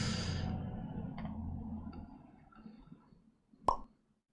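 Bubble pop effect in a Unity bubble wrap game: a single short, sharp plop near the end of a quiet stretch, preceded by faint fading background noise, with no one speaking.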